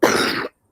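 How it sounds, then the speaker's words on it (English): A single harsh, raspy cough burst, close and loud, lasting about half a second before cutting to silence. "I'm sorry about my cough."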